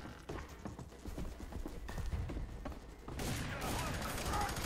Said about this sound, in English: he just shot that corpse up